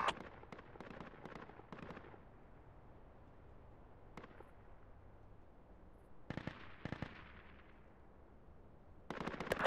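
Gunfire in the military shooter game Project Reality: scattered bursts of rapid shots, some clustered volleys and isolated cracks, separated by quiet stretches, sounding fairly distant.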